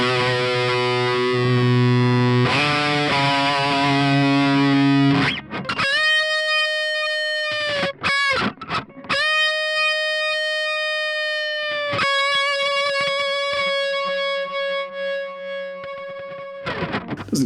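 A heavily distorted electric guitar plays through a Lichtlaerm Audio Prometheus amp with a noise gate, loud and close. Chugging chords give way to long sustained single notes and bends, and each note is cut to silence cleanly by the gate.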